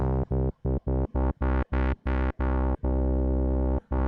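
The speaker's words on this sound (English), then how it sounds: "Let's try Juno chorus first, no noise." A synth sample in the Koala Sampler or SP-404 MK2 plays through a Juno chorus effect without noise, a series of choppy, thickened tones with a wide chorused shimmer, rhythmic bursts separated by short gaps.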